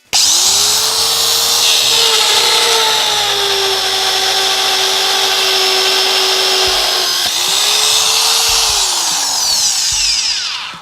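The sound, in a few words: magnetic drill boring a hole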